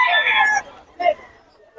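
A chicken vocalizes at the Bocaue fowl market. There is a loud crow-like call at the start, then two shorter squawks, and people talk nearby.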